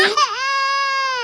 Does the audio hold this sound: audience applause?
no